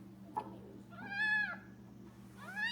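A tiny rescued kitten, newly dried off after being left out in the cold, meows twice in high, drawn-out cries close to the listener, with a low steady hum running underneath.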